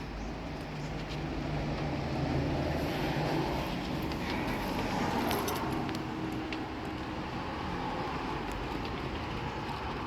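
Steady, dense road traffic rumbles throughout, a continuous broadband roar with passing vehicles blending together at a moderate distance.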